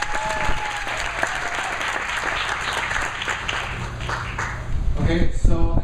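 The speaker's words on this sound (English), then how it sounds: "So give him a round of applause." Audience applause for a LEGO designer at a talk, a continuous patter of clapping with a low hum underneath and a burst of voices and louder claps near the end.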